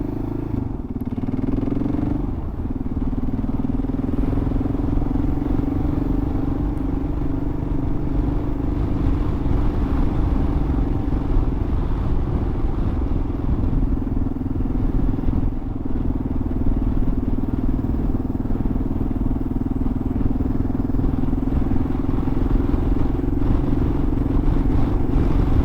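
Kawasaki KLR adventure motorcycle riding on a long outback trip in Western Australia, its engine droning steadily and close throughout with constant wind rush and rattling, no speech.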